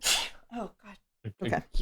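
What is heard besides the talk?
sneeze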